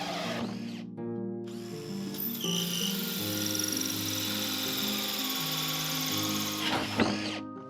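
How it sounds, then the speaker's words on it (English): A power drill fitted with a hole saw cuts holes in wood, whining steadily and loudly with shifting pitch, its motor winding down at the end. "I'm cutting them out with a hole saw attachment on my drill."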